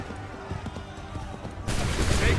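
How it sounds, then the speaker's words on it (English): Musket volley in Assassin's Creed III, a rattle of shots and battle commotion that swells into a louder burst of fire near the end, with faint voices underneath. "Wait for the signal. Open fire."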